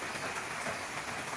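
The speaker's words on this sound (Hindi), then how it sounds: "बारिश थमने का नाम नहीं ले रही थी।" Heavy rain falls steadily in a forest, a dense, even hiss of drops with no let-up, close and continuous throughout.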